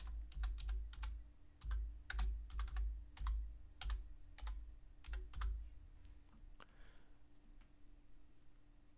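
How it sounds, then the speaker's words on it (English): Rapid bursts of computer keyboard typing, clicky keystrokes in quick irregular runs with short pauses, fairly close, over a low steady hum with no talking. "Let me just type in great trumpet."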